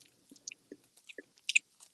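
Close, loud open-mouthed chewing of food, with wet smacks and clicks coming in an uneven rhythm and a louder burst of smacking near the end, no talking.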